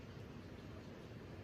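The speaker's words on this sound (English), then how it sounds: "but it is pouring rain" Pouring rain falls outside a cottage on the Appalachian Trail, a steady, even wash of broadband hiss without breaks, fairly faint and continuous.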